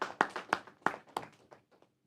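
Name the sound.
audience clapping for the sponsors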